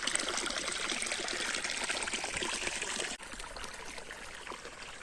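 Irrigation water flowing into a farm field, a continuous close trickling and gurgling stream that drops slightly in level partway through, with no talking.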